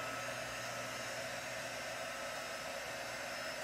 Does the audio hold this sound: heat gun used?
yes